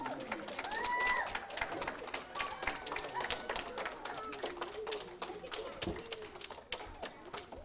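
Fourth grade students clap for their teacher at an Islamic school graduation, a scattered, uneven patter of many small hands in a hall, with voices and whistling murmurs over it.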